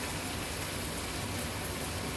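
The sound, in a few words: light rain falling outside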